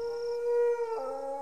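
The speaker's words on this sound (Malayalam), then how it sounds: "പട്ടി" A dog howls in a Malayalam comedy film scene: one drawn-out, steady tonal wail that shifts pitch slightly near the end, fairly close and alone.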